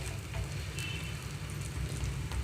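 Bottle gourd (sorakaya) snack batter frying in ghee or oil in a pan over a medium flame, a steady close crackling sizzle like light rain, constant throughout with no voices.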